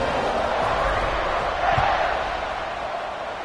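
A football stadium crowd at an Auburn versus Michigan State game roars steadily as the kickoff begins, a broad distant wash of cheering under a commentator's voice.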